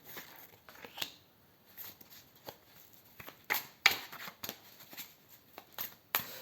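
A deck of oracle cards is shuffled by hand during a name-based card reading. Soft, irregular flicks and riffles come in quiet bursts, close by and unaccompanied.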